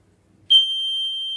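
A piercing high-pitched electronic buzzer from a MIMIC Model Bz buzzer-cum-flasher alarm switches on abruptly and holds a steady shrill tone after a short quiet lead-in.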